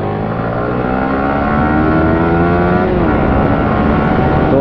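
A Yamaha R15 V3 BS6 motorcycle fitted with an Akrapovic exhaust rides along with a steady, loud engine drone that rises slightly and shifts pitch midway, heard close and without talk.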